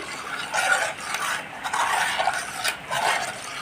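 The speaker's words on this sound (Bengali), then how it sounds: "এক বাটি দুধ নিয়ে তো এই গুঁড়ো দুধটা ওই দুধের মধ্যে গুলে নিচ্ছি" A spoon scrapes and swirls steadily around a bowl as powdered milk is stirred into warm milk for payesh, a soft, rhythmic clinking and swishing close by, with no talk.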